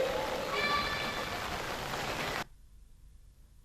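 Heavy rain pouring at Umbala beach, a dense steady hiss that cuts off abruptly near the end into near silence.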